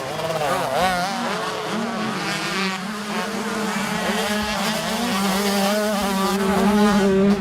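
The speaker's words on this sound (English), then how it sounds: "He looks to make a pass around the outside of the 115 machine of James Angel." 125cc motocross bikes racing as one rider passes around the outside of another machine, their engines a loud, continuous high-revving whine that rises and falls in pitch through gear changes, close and unbroken.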